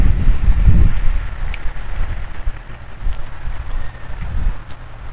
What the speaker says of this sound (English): A little windy this afternoon.